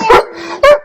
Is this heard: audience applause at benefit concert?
no